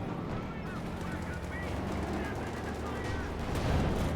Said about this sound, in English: Shot went through there, Panther 4 down to, well, 2/3 of its total health